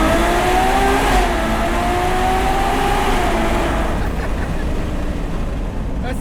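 Ferrari 812 Superfast with its 789 hp V12 accelerating through a road tunnel, a loud sustained engine roar rising in pitch and echoing off the walls, then fading as the car eases off.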